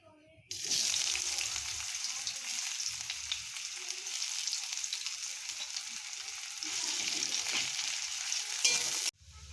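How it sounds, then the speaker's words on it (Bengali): Chopped onions sizzle and fry in hot mustard oil in a heated kadai, a steady close crackling hiss running unbroken for several seconds after the onions hit the pan. "পেঁয়াজগুলো আমাদের লাল লাল করে ভাজা হয়ে গেছে"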